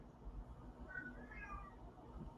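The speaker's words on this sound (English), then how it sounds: "Oh, my cat." A cat meows from outside the house, a single drawn-out wavering call, faint and distant over a low steady background rumble.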